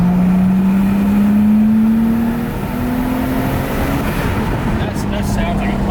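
A Nissan Skyline's engine runs close by, its steady drone climbing slowly in pitch as it revs smoothly and evenly, with people talking over it.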